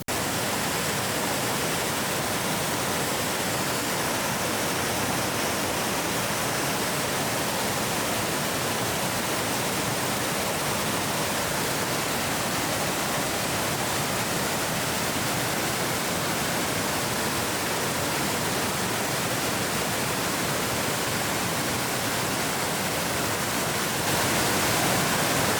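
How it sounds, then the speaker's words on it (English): Small waterfalls tumble over rocks along a bush walk, a steady, loud, unbroken rush of water close by with no other sounds. "It is disappearing up over the rocks, and I can see tiny little waterfalls all the way down"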